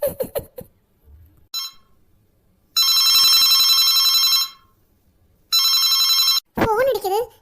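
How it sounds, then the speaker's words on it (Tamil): A telephone ringing in two long, loud bursts separated by a pause, with a voice heard briefly before and right after the rings. "ஃபோன் அடிக்குது."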